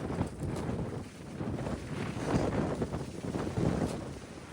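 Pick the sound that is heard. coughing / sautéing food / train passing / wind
wind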